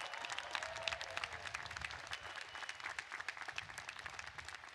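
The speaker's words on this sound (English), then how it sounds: "Let's give Victor a big applause and all the fathers here" Sustained applause from a large crowd at a university engineering commencement ceremony, honoring a graduate and fathers on Father's Day, heard faint and distant as a continuous patter of many hands.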